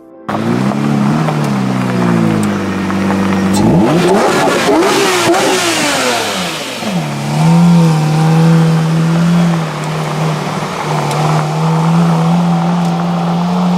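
A 2009 Lamborghini Reventon Roadster in the Need for Speed game revs loudly and climbs through rising gear sweeps, then settles into a steady high engine drone, alone with no talk.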